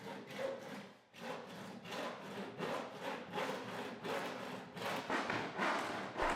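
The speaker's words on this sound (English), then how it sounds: "Using the handsaw, cut along the straight line." A handsaw works back and forth through a shower wall panel in quick, even strokes, a soft, close rasping rhythm that continues throughout without any talk.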